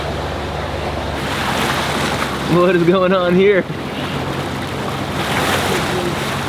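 A RIB boat with growth on its hull motors at about 10 knots and 2,000 RPM through waves, giving a constant rush of water and wind noise, while a person briefly speaks over it midway.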